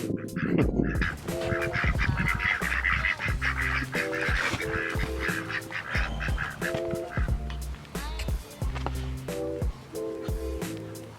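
Repeated honking and quacking from a group of waterfowl, steady and fairly close, with loud calls overlapping throughout.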